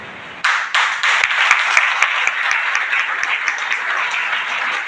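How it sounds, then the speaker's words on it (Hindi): A seminar audience in Bihar Sharif breaks into applause: after a quieter opening, dense clapping starts abruptly and continues steadily, with a few sharper individual claps standing out near the front. "अब इस पे तालियां क्यों बजाई जाती है?"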